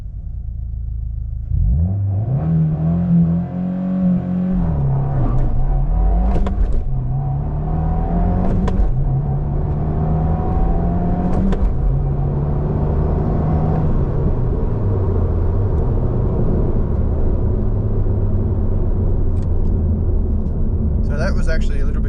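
A 2024 Subaru WRX with a manual gearbox accelerates hard from a start, its engine climbing through the revs, dropping at each early upshift and climbing again through the gears, loud and steady from inside the cabin.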